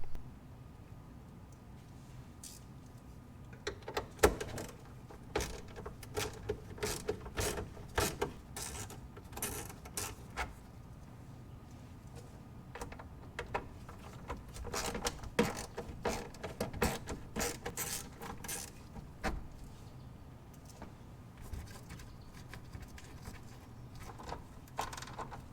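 Bolts being loosened behind the headlight housing of a 2015-2017 Ford F-150 with the wheel well liner peeled back: a long run of close, quick ratcheting clicks and metallic ticks in irregular bursts, without talk.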